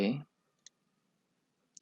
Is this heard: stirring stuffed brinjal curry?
no